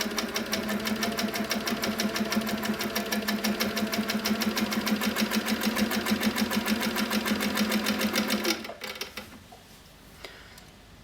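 An HQ Sweet Sixteen sewing machine stitches free-motion quilting at a fast pace, its rapid, even needle chatter running loud and steady for about eight and a half seconds before stopping abruptly into quiet.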